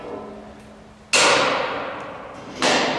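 A welding ground clamp set down on a metal piece gives two sharp metallic clanks, the first at about one second with a ringing tail and a second near the end, close and fairly loud, with no talk.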